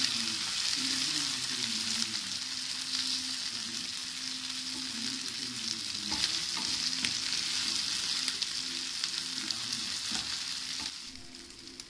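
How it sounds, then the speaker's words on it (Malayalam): Chicken frying in coconut oil with green chillies in a pan, a steady, loud, close sizzle that crackles continuously throughout with no voices. "അപ്പോൾ കുറച്ച് വെളിച്ചെണ്ണ മതി ഇങ്ങനെ പൊരിച്ചെടുക്കാൻ."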